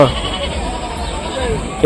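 Goats bleat close by amid the crowd at a weekly animal market in Rajarampalli, a steady hubbub of livestock calls layered under continuous talking voices.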